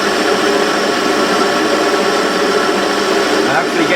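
A Warco WM180 lathe takes a 4 mm cut off the diameter of a metal workpiece, giving a loud, steady whirring and grinding hum that runs without a break throughout.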